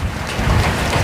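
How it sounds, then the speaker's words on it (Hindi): Heavy rain is falling in an Uttarakhand mountain village, making a dense, steady, loud roar close by. No one speaks over it. "ओ भाई बहुत तेज वाली बारिश लगना शुरू हो गई"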